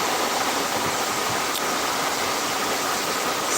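Loud, steady broadband rush of a swift river in flood, the water running fast about 50 to 70 meters away during bad weather, continuous with no breaks and no voices.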